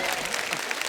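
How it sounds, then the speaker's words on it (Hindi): Studio audience on a Hindi comedy talk show, The Kapil Sharma Show, breaking into loud, dense applause that carries steadily through the whole short moment with no one speaking. "एक बार फिर से जोरदार तालियां हो जाएं"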